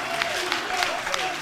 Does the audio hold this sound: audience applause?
yes